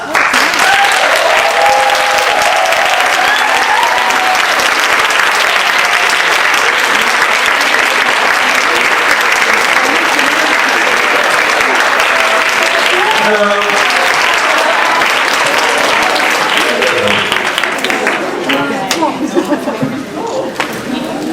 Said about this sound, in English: So please welcome them with a big applause.